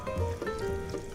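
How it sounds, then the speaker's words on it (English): Chopped onion and garlic saute in a pan, giving a soft, close sizzle with light crackle that stays steady through a brief moment. "my mom's cut up the onion and the garlic, and now she's just going to saute it a little"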